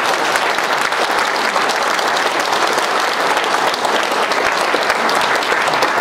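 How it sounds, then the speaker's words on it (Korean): Audience at a Korean political lecture applauds a seated association chairman, steady dense clapping that fills the whole span at even loudness with no voices on top. "박수를 보내주시기 바랍니다"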